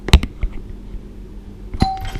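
A hotel room doorbell rings with a short, loud chime near the start and again toward the end, clear and close in an otherwise quiet room.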